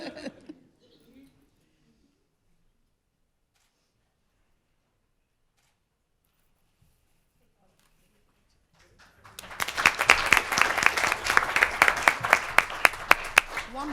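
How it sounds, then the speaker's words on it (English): Audience applause for employees at a board meeting, bursting in after several seconds of near silence and holding steady as a dense, moderately loud clatter of many hands clapping. "One more round of applause for all of our exemplary employees."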